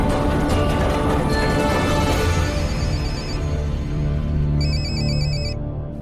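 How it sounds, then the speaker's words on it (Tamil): A mobile phone ringtone plays loudly and steadily as a repeating electronic melody, sounding alone with no talk over it. "யாரோட போன் ரிங் ஆகுது?"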